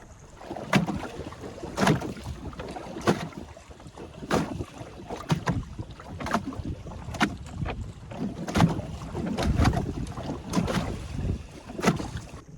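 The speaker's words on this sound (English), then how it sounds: "Coming out of the cove and rowing into the swell" A small boat is rowed out of a cove into ocean swell, oars splashing and knocking in a steady rhythm of strokes about every second or so, with wind buffeting and water sloshing around the hull.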